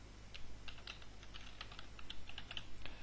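Rapid typing on a computer keyboard, a steady run of light close key clicks over a low constant hum, with no voices.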